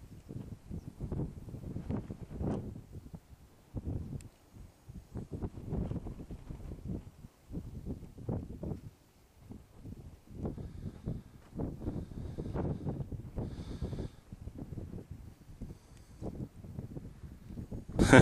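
Gusty wind buffets the microphone at an airfield during the first flight of a restored Piper Cub, rumbling in uneven low bursts that rise and fall for the whole stretch, fairly faint overall.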